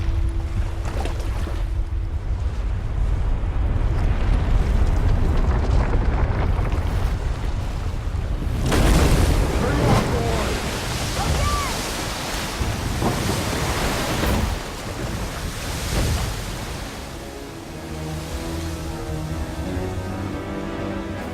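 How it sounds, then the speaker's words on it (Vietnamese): A lake surface quaking and heaving into big waves in the God of War video game, a loud, continuous rumbling roar of churning water and wind with deep low-end surges that swell midway, then slowly ease. "mặt hồ đã xuất hiện những đợt chấn động tạo ra sóng lớn"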